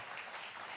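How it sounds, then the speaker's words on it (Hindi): Audience applause greeting Manoj Tiwari at a political event in Delhi, a steady faint wash of clapping throughout the short moment with no voices. "एक बार जोरदार तालियों के साथ मनोज तिवारी का स्वागत कर दीजिए।"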